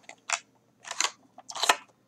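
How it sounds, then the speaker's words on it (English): A pack of playing cards being torn open, three short crinkly bursts of wrapper and cardboard rustling, close and distinct with brief pauses between them. "Gonna get these cards open."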